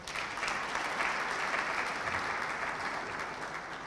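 Dense, even applause from a seated audience at a formal government leadership event, continuous and moderately loud, with no voices over it.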